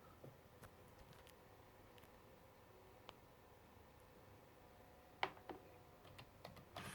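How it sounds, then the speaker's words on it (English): Computer keyboard typing a command, quiet scattered key clicks with a few sharper taps and a brief burst of keystrokes toward the end, close and alone over faint room hiss. "Now we're just going to type this command real quick."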